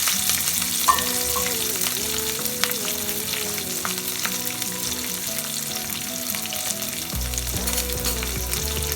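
Green chilies and garlic sautéing in hot oil for tomato thokku, a steady loud sizzle with spatula stirring throughout, the frying tone shifting slightly near the end.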